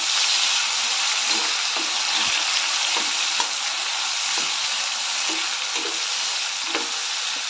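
Chopped onion and tomato frying in oil with cumin seeds, bay leaf, star anise, cinnamon and cloves, a steady close sizzle throughout with faint scrapes of a spoon stirring at intervals; no voices.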